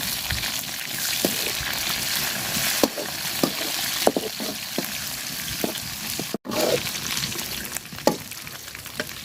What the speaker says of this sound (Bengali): শুটকিটা দিয়ে দিলাম, শুটকিটাও আমি লাল লাল করে ভাজা নিব।